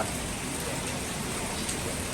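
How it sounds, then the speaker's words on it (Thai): Steady, dense rain pours down outdoors in Thailand, a loud, even hiss filling the whole stretch with no break and no voices. "ฝนตกไปเลย"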